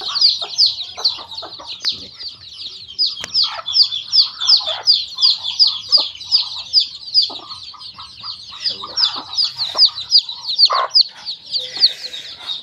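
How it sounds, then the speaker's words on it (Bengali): Native chickens cluck and chatter steadily inside a cage indoors during winter, a dense near chorus of overlapping clucks and calls continuing throughout. "আমার দেশি মুরগি।"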